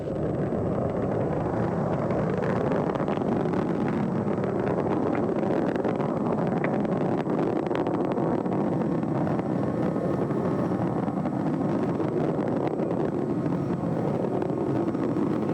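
Space Shuttle Atlantis on its final launch in 2011, its three liquid-fuel main engines throttled back during ascent, a steady distant roar heard alone and unchanging throughout.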